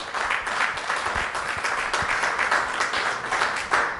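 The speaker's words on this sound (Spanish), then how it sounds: "Dale un aplauso al Señor." Steady applause from a church congregation during a service in Cieza, a moderate wash of many hands clapping together without pause.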